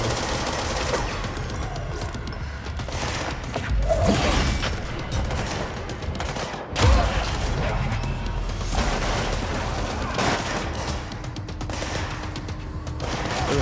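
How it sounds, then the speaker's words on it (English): Gunfire in the video game Control (AWE expansion), dense rattling bursts running continuously throughout with a couple of heavier booms around the middle, loud and close, mixed with game effects. "Shooting his ass."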